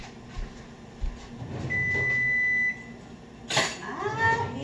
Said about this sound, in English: Okay, the oven's beeping at me.